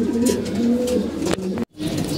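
Pigeons coo in a breeding loft, low throaty calls layered and continuous at close range, with a brief dropout near the end before the cooing resumes.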